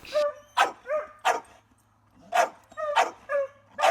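Dogs bark and yip in short, sharp bursts at close range, stirred up by stray kittens near the house, with several quick barks, a pause, then another cluster of barking and whimpers.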